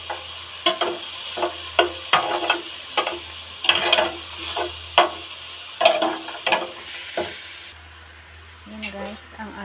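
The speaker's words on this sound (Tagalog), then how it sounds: "nilagay na natin yung sibuyas at saka bawang" Onion and garlic sautéing in a pan for a mixed vegetable dish, a hissing sizzle broken by regular spatula taps and scrapes, close by, fading near the end as a voice briefly speaks.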